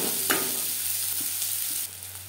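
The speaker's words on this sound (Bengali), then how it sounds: "পেঁয়াজ ভাজা হয়ে গেছে।" Three chopped onions frying in a pan, a close, steady sizzle with a faint low hum beneath and a brief stirring scrape near the start, quieting slightly toward the end.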